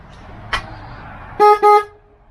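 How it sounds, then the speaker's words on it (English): Horn of a 1973 Honda CB 350 Four motorcycle gives two loud, close, short honks in quick succession, following a brief thump, with no talking. "Hey, you want to hear the horn?"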